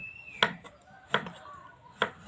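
A knife chops through pumpkin on a board while preparing pumpkin custard: three crisp, sharp knocks spaced evenly under a second apart, close by over a quiet room.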